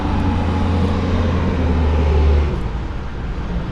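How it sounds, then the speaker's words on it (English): A UPS delivery truck rolls past nearby, a loud steady low engine rumble and road roar that holds for a few seconds and then eases slightly as it moves away. "It's a UPS truck."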